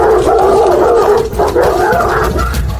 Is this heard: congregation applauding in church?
no